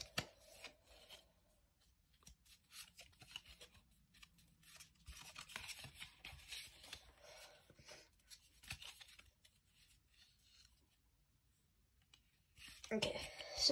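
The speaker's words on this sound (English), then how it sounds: "me shuffle the cards here." Pokémon trading cards from an elite trainer box being shuffled by hand, a run of soft papery riffling and clicking strokes close up, with a louder burst of handling near the end and light talk in between.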